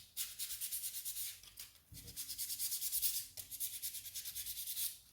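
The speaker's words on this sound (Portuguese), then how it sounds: "tem que lixar esse vão aqui, ó" Someone hand-sands a wooden door with sandpaper in quick rhythmic back-and-forth strokes, a dry scratchy rasp in bursts with a brief pause partway through, close and alone.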